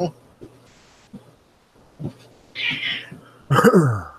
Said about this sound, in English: Oh, there was a cat up there.